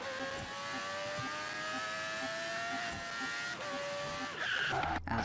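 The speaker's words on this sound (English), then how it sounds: "As I drift into a 4th place finish" A car drifts through a race in Forza Horizon 4, tires squealing in long sustained wails over a droning engine, with faint repeated ticks, rising into louder scrabbling near the end.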